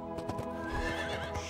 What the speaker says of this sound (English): He's the lord of all horses and has been my friend through many dangers.